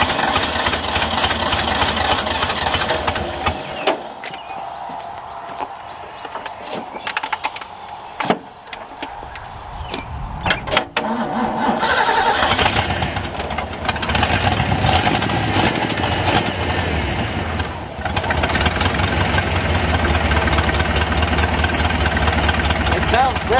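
A fuel-injected truck engine idles steadily and fairly loudly throughout, a continuous rumble with people talking over it and some brief clatter near the middle.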